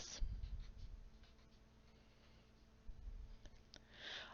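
Pen or marker writing a short note on a board or tablet during a math lecture on vectors, faint scratchy strokes in brief bursts with low room noise and no talk.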